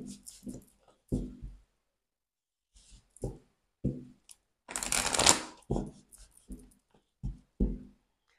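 Tarot cards being shuffled by hand: short riffling bursts in an irregular rhythm, close and fairly quiet, with one longer shuffle in the middle and silent gaps between.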